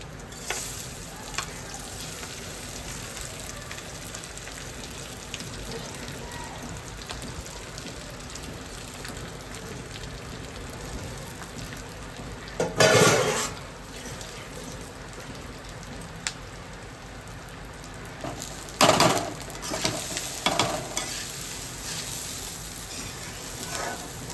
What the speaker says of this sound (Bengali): এবার আমি চালটা ঢেলে দেবো